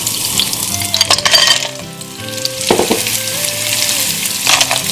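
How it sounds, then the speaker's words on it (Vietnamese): Sea snails stir-frying in a hot pan with lemongrass, garlic and lime leaves, a loud continuous sizzle with scraping stirring strokes and occasional clinks, close up and with no voices. "Thì bây giờ Tiền sẽ cho ốc vào."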